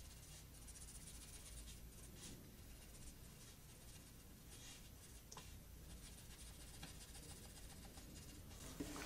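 Soft graphite pencil lightly blending the center of an iris in a realistic eye drawing on paper, a faint, steady scratchy rustle of continuous strokes throughout, close and quiet, with no talking.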